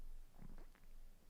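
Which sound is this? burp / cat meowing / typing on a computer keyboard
burp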